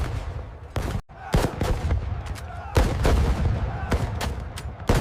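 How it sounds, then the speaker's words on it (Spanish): Cannons fire in battle as loud, booming blasts in irregular bursts, several shots crowding together amid rumbling battlefield noise. "los chilenos deciden actuar y comienzan a disparar sus cañones hacia las filas"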